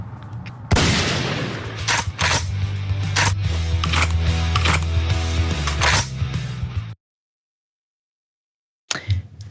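A gunshot in a Lauren Boebert political ad: a dense, loud stretch of booming bursts and sharp cracks, then about two seconds of silence, and finally a brief, sharp report at the very end.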